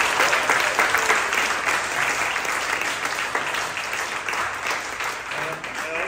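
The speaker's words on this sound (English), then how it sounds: "Big round of applause for them" Enthusiastic applause from a crowd at a food talk event in a Mexican restaurant, dense clapping that stays strong throughout and tapers slightly toward the end.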